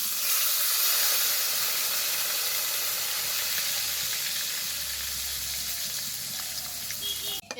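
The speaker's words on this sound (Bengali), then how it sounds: "এই বেগুনগুলোও ভেজে নিলাম" Eggplant slices fry in hot oil, a loud, steady crackling sizzle that fills the whole stretch close up, with a brief clatter at the very end.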